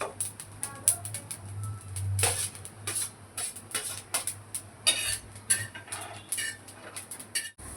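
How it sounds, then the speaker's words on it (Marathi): Dry coconut roasting in a metal pan, with repeated scraping and clinking of a spoon against the pan in an irregular rhythm over a low hum, close and moderately loud. "आपण खोबरं भाजत आहे"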